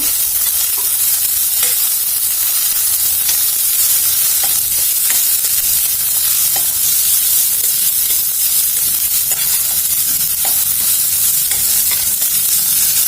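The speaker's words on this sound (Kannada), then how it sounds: "ಕೊತ್ತಂಬರಿ ಕರಿಬೇವಿನ ಸೊಪ್ಪು ನಾನು ಈಗಲೇ ಹಾಕೊಂಡ್ಬಿಡ್ತಾ ಇದ್ದೀನಿ. ಇದನ್ನು ಸೇರಿ ಫ್ರೈ ಮಾಡ್ಕೊಳ್ಳೋಣ." Coriander and curry leaves frying in hot oil for niger seed chutney, a loud, steady sizzle and hiss lasting throughout with occasional faint stirring taps.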